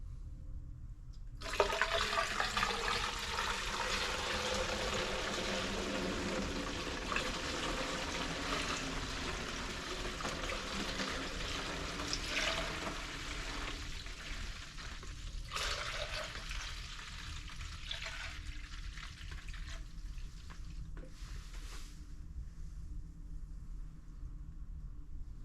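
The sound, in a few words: pouring coolant into a jug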